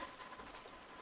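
Rain patters down in GTA V during a sudden storm, a steady hissing wash of fine drops heard alone and fairly faint.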